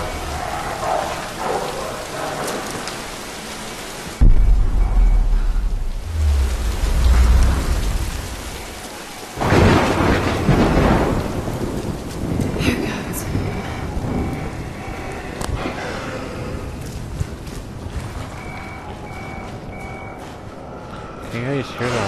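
Heavy rain pours in the Tomb Raider video game while a deep thunderclap rumbles loudly for several seconds midway, then the downpour hisses on as players talk over it.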